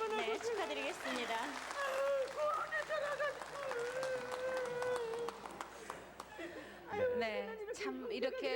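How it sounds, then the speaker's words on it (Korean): A studio audience at a 1983 Korean live broadcast reuniting separated families claps in congratulation, scattered applause with some chuckling running under continuous talk and emotional voices. "우리 축하의 박수 모두 좀 보내주실까요"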